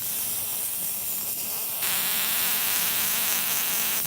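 Antique early-1900s electrotherapy device sparking and buzzing, a continuous loud electric crackling hiss like an insect swarm that grows brighter and harsher partway through, with no voices.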